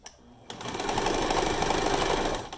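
A sewing machine with a ballpoint needle back-tacks a T-shirt strap onto a mask, starting abruptly after a faint rustle and then running in a fast, steady, close mechanical whir for about two seconds.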